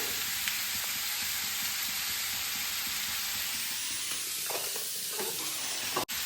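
Bottle gourd and potatoes sizzle steadily in a hot pan as a utensil stirs them, a constant frying hiss with soft scraping touches, ending in a single sharp knock near the finish.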